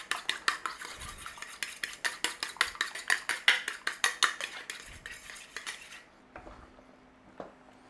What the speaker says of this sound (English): We're going to crack our egg in there like that, and we want to give it a beating.